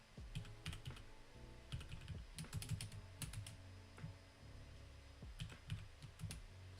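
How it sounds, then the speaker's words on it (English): Quick bursts of clicking keystrokes on a computer keyboard, typed close by in irregular clusters with short pauses between, a low steady hum underneath. "So if I am quiet for a moment, it's simply due to me typing something."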